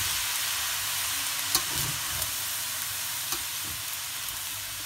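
Chinese fried rice with soy sauce sizzling loudly in a pan while being stirred, with a constant frying hiss broken by a few soft scrapes and clinks of the utensil, no talking.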